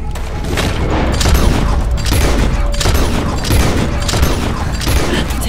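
Dense, continuous gunfire and booming blasts from a swamp fight in the video game Red Dead Redemption 2, loud and sustained throughout with no clear pause.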